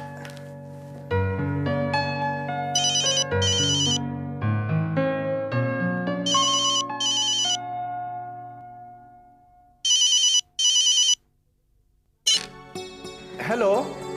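A phone ringtone plays a melodic tune several times over while a call is placed to Vicky's phone, loud and close, broken by brief pauses and clicks.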